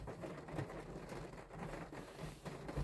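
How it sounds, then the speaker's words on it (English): Heavy rain pours down in a steady, dense hiss with no distinct drops standing out. It is fairly quiet overall and continuous throughout, with no talking. "it's starting to rain a lot"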